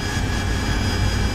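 Jet engine roar of an aircraft coming in to land with gear down in the DCS World combat flight simulator, a loud, dense, unbroken rumble filling the whole short moment with no talk.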